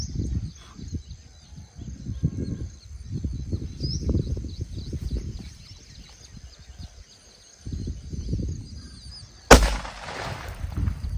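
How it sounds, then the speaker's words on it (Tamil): A 6-inch special nattu vedi firecracker laid flat on the ground. After several seconds of low rumbling and rustling, a single loud, sharp blast erupts near the end. "மக்களே இதை படுக்க வச்சு வெடித்து பார்ப்போம்."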